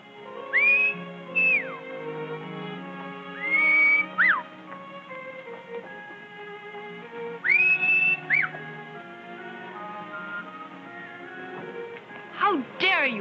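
A man whistles a few short rising and sliding tones, repeating in bursts between speech, over an old 1939 Western film soundtrack with dialogue and background music.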